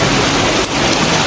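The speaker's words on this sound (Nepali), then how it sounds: "पानी पर्दैछ" Heavy rain pours steadily outdoors during a behind-the-scenes music video shoot in Nepal, a loud, unbroken wash of hiss with no pauses.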